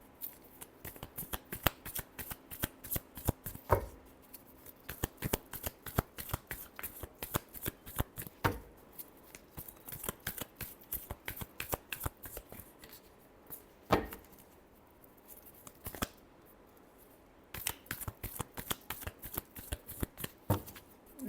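Tarot cards are shuffled by hand in long runs of rapid riffling snaps, broken by a few sharper taps and short pauses. The sound is close and quiet, with no voice.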